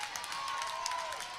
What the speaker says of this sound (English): Michigan crowd supporting Erickson as she's down in the count.